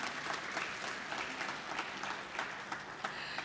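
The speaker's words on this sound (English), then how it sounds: "I'd like to give them a round of applause if you'd like to join me." A seated audience at a refugee camp town hall in Kakuma applauds a panel, even and continuous clapping from many hands, fairly soft and distant with no talk over it.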